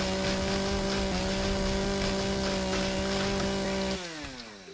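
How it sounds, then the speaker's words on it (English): Chainsaw cutting wood in a video game, a loud steady motor whine with a constant buzzing pitch that holds, then drops in pitch and volume as it winds down near the end. "I'm pretty much done with this chainsaw."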